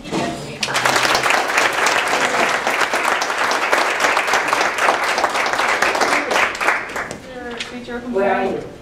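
Enthusiastic applause from a large audience, steady and sustained for several seconds, then tapering off as a voice begins speaking near the end.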